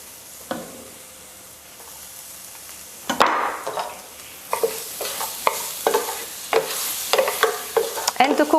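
Minced garlic hits heated olive oil with a sudden loud crackle, then sizzles steadily while a utensil scrapes and stirs in bursts around the pan.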